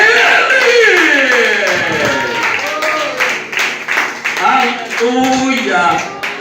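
A church congregation claps together at an evening worship service, a loud, steady wash of hand claps mixed with cheering and shouting voices throughout.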